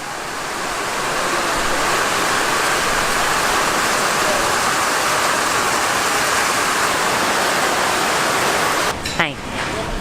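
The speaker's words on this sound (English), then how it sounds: "the rain just came and look" Heavy rain pours down in Malaysia, a loud, dense, unbroken roar of falling water that fills the whole stretch, with a brief clatter near the end.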